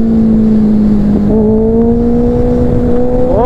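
A Kawasaki Ninja ZX-6R superbike engine runs loud and close, holding a steady drone before its pitch climbs in rising revs, loudest near the end, with no talk.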